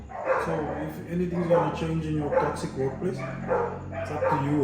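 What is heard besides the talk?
dogs barking in background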